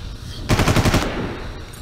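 A machine gun in the Far Cry video game fires a short, loud burst of rapid shots, about half a second long, then fades into a ringing tail.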